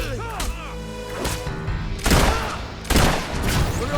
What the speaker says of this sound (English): We're under fire! Keep your heads down, boys!